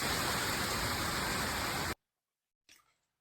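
Steady rain pours on a Kerala farm planted with elephant foot yam and ash gourd, a dense even hiss that cuts off abruptly, followed by silence and a brief faint rustle.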